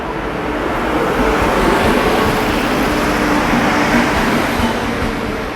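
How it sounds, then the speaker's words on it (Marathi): A train pulls into a station, a loud continuous rumble and rush of wheels and wind that holds steady throughout. "आली शेवटी ट्रेन आली आपली"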